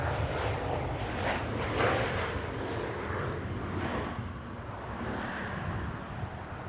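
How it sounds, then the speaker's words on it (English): A TUI airliner arriving at Schiphol in windy weather, a moderate, fluctuating engine rumble that swells and fades, mixed with wind buffeting on the microphone. "That was the TUI flight coming in."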